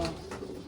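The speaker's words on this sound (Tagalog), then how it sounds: "Yan yung ibon, no? Ito mga kalapatid." Racing pigeons from a Mariano bloodline give a short, soft, close coo in one brief throaty burst.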